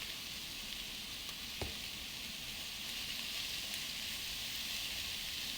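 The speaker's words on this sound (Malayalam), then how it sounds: "ഇനി ഇതൊന്ന് വഴണ്ട് വരട്ടെ." Steady broadband sizzle of sliced onions and salt frying in oil in a pan for egg biryani, continuous and fairly quiet throughout, with one brief tap of a utensil midway.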